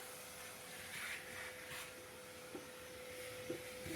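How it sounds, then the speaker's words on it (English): A vacuum cleaner drones steadily inside a car interior being cleaned out for motorsport weight reduction, a faint continuous whine with occasional soft knocks and bumps as the nozzle moves about. "The young fella's getting all the dirt out of him and vacuuming him out and stuff."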